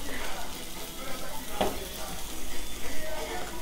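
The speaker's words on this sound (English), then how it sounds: "Cause like we're sizzling right now." Food sizzles and crackles steadily in a hot frying pan close up, with a brief scrape partway through.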